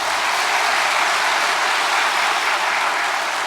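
An audience at a Korean reunification address bursts into applause, a thick, continuous wash of many hands clapping at a steady loud level with no voices.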